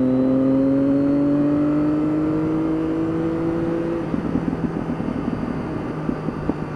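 A motorbike riding through the Medway Tunnel, its engine drone rising steadily in pitch before dropping into a rougher, pulsing throb, loud and enclosed with a reverberant rumble.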